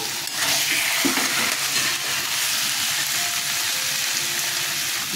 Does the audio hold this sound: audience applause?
no